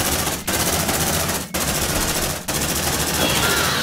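A sentry gun in Aliens Dark Descent fires a dense, continuous automatic burst. The loud, sustained rattle breaks off in three brief gaps and carries no talk over it.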